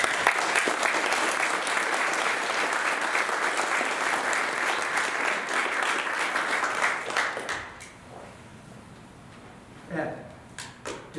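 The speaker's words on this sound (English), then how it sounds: "I'd like to give them another round of applause for the parents" Audience applause for the parents at an Eagle Scout court of honor, a steady round of clapping that fades out after about seven seconds, followed by a few scattered claps and small room noises.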